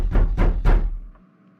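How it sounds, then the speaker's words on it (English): Three loud, close knocks on a door come in an even, quick rhythm, each a heavy, hollow thud, followed by brief quiet. "I was afraid when I heard the knock"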